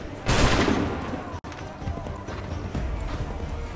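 Gunfire in the Assassin's Creed 3 video game, a loud musket volley bursting out at once, followed by lingering rumble, scattered shots and commotion.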